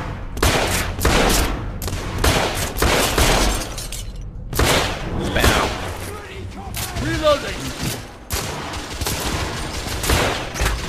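Gunfire in the video game The Order 1886, loud dense bursts of rapid shots coming in clusters with brief gaps, crashing and breaking sounds mixed in.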